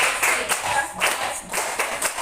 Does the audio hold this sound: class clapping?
yes